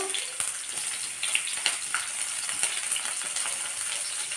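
Onions go into a pan with fenugreek seeds and fry with a steady close hiss and crackle, broken by light clicks and taps of a utensil against the pan.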